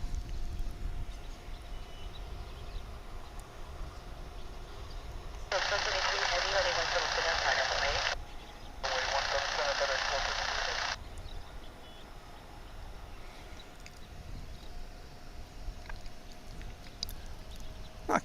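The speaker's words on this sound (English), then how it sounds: "we're going to see American Eagle Flight 3760, operated by Envoy Air in Embraer 175" An American Eagle Embraer 175 LR jet operated by Envoy Air at DFW airport, its engine roar swelling for several seconds, briefly dipping, then continuing before fading back into steady ambient noise.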